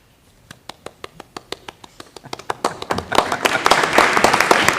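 A board meeting audience starts with scattered, evenly spaced single claps that grow into fuller, louder group clapping over a few seconds.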